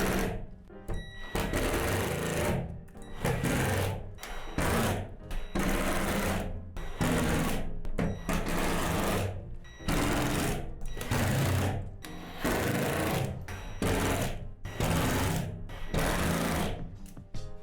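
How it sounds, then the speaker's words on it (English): A power drill drives screws into the plastic panels of a Lifetime 7' x 7' outdoor storage shed, with loud, close bursts of whirring that start and stop in a repeated rhythm, with no talking. "if you're using a drill like us, be extremely careful not to over-tighten the hardware"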